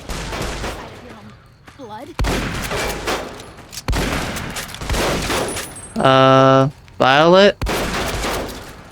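Gunfire in Fallout: New Vegas: loud bursts of shots in clusters across several seconds, interrupted by two sustained tonal game sounds, with a person talking briefly in between.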